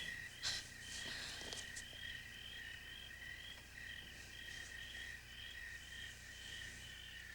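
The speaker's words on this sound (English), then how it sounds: "Crickets in the studio." Insects chirp steadily in a quiet space, a faint high pulsing trill with a few brief clicks early on.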